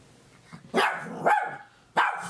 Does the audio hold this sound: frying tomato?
no